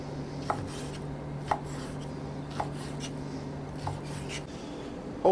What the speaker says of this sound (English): the beef's been cut into some large cubes